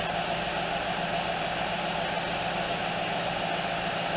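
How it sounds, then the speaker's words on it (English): A car engine idles steadily during fuel injector testing, a constant low rumble with a faint mechanical hum, even and unbroken throughout, no voices. "All right, so the engine's running."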